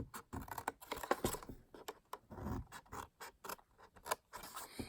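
Paper snips cut along score lines on a paper treat box, giving a quiet run of quick, irregular crisp clicks and snips with no talking.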